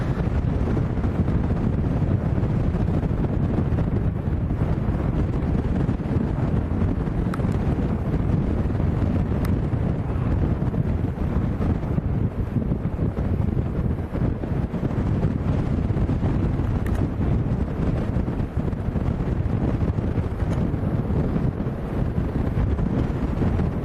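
Strong crosswind buffets the microphone at Lanzarote airport, a steady dense roar of wind rumble running the whole time with no letup and no voices.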